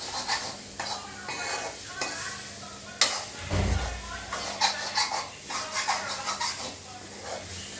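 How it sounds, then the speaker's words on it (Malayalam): Spinach and dal thoran is stirred in a hot pan, with a continuous sizzle and repeated scraping and clinking of the spoon against the pan. A voice talks over the cooking throughout. "അപ്പോൾ നമ്മളത് എല്ലാം കൂട്ടി മിക്സ് ചെയ്ത് ഇളക്കുവാണ് ഇവിടെ."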